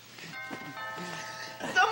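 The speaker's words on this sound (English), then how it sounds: "That was the doorbell." A two-tone doorbell chime rings in a home, standing out over background talk and room sound.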